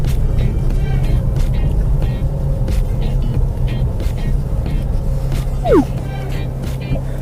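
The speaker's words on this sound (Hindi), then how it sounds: "पहले मैं गाड़ी थोड़ी आगे ले लेता हूँ।" A 2020 Maruti Suzuki Swift petrol automatic pulling forward, with a steady low engine and road rumble inside the cabin and a faint chirp and light clicks over it.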